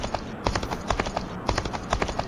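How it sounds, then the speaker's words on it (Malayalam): Horse hooves clip-clop in a steady galloping rhythm while riding in Red Dead Redemption, a series of crisp, close, repeating hoofbeats with no talk over them. "നമുക്ക് എന്തായാലും കുതിരപ്പുറത്ത് കയറാം"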